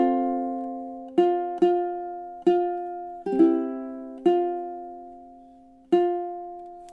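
Ukulele picks out measures 13 and 14 of a film theme as six clear, separate plucked notes and chords that ring and fade between attacks, heard close and alone.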